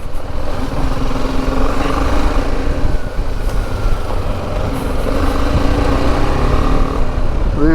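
Motorcycle on TKC 80 tires riding along, a constant close engine rumble with wind buffeting and slight throttle swells, steady throughout without speech.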